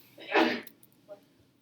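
A single short, sharp sneeze bursts out, fairly close, followed by a faint breathy aftersound.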